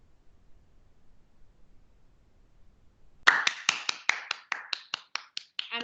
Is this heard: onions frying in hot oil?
no